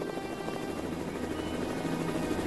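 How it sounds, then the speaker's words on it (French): A helicopter in a French animated cartoon, its rotor producing a steady, rapid chopping drone that stays loud and constant over a low rumble. "Aïe, un hélicoptère maintenant."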